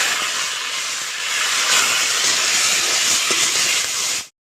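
Fish fat (maacher tel) from katla fish sizzles loudly in hot frying oil with chopped green chilli, a steady close hiss that stops abruptly near the end.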